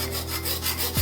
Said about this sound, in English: now I'm going to use a hacksaw and try and cut this off